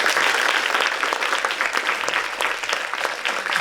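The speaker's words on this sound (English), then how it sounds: "let's have a round of applause for Kimberly Perry" Audience applause at a doctoral research conference awards segment, a steady dense clapping from a full room that holds at an even level throughout with no voices on top.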